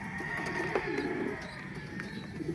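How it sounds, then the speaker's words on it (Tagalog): Racing pigeons coo and murmur in a loft, a soft steady bird chorus with a few brief call-like accents over a constant background. "Update sa mga alaga natin kalapati"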